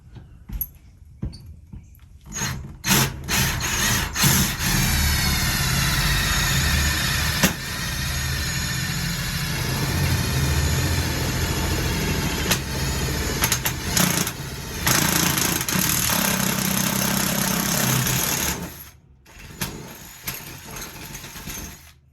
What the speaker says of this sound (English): Try to put this the first hole in.